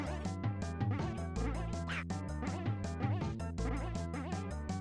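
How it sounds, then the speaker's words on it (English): Enemies in the Plok video game let out quick squawking, duck-like screeches as they die, loud and close over busy chiptune game music, with several short cries in a row. "These guys screech like Daffy Duck when they die."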